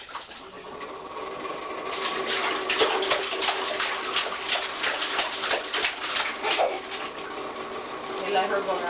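Young children splashing water in a bathtub at home, a run of bright repeated splashes and sloshes up close, with an adult voice and children's chatter around them.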